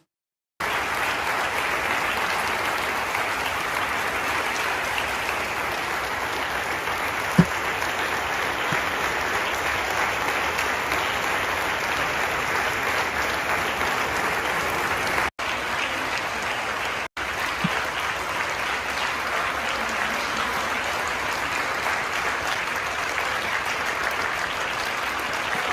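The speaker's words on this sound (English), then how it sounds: "You're wasting tax dollars, standing here clapping at people." A group of people stand clapping continuously at a live street scene, a long unbroken wash of applause at steady loudness, with a single sharp knock partway through and two brief dropouts near the end.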